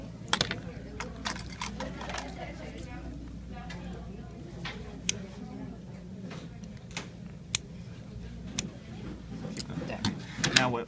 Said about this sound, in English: Or you can use scissors. I'm just cutting.